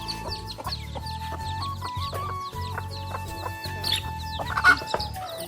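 Backyard desi hens keep clucking among their seventeen chicks, repeated short clucks and high peeps sounding close and continuous, with a few brief human voices underneath.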